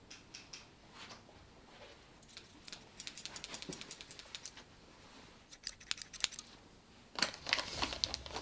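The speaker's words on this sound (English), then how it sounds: "I'll get scissors." Scissors snip through packaging in a quiet room, a series of short, sharp, faint cuts and rustles that come in loose clusters, with a brisker burst of snipping near the end.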